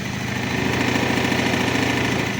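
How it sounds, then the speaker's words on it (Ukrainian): A scooter engine with an electric choke idles steadily, a loud, rapid, even chugging that stays constant throughout with no talking. "Він реагує на ручку газу, він тримає холості."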